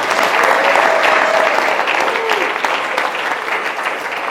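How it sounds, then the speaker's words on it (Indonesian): Sustained audience applause fills the hall at a youth camp gathering, a dense, steady wash of clapping from a large crowd that holds at an even level throughout with no talk over it. "tepuk tangan untuk kita semua yang hadir."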